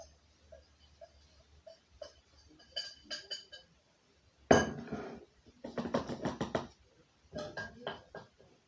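Homemade dried Italian seasoning goes into a container, with light clinks and taps of a spoon against the container, a sharper knock, then a run of small scraping and rattling sounds, heard up close in a quiet kitchen.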